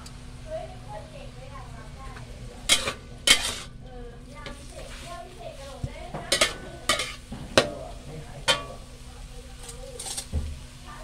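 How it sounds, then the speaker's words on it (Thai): Glass noodles stirred in a pan, with a spatula scraping and clattering against the metal in sharp, irregular knocks over a low sizzle, while someone talks throughout. "ก็ใส่ให้เส้น แล้วก็ใส่วุ้นเส้น"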